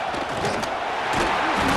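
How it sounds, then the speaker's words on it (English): Roaring football stadium crowd at Texas versus Florida game, thousands of fans building steady, loud continuous noise to rally the defense with the offense pinned back. "this crowd coming to life here, trying to help the defense get a stop with the offense pinned back"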